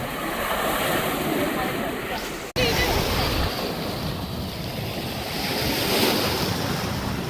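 Sea waves on a beach, a steady broad wash of surf with heavy wind buffeting the microphone, loud and constant apart from a brief dropout.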